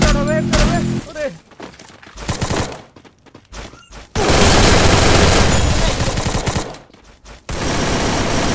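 Rapid video game gunfire in a match, loud bursts of shots over about two seconds, then a long dense volley with a short gap before it resumes, with game sounds and brief voices in between.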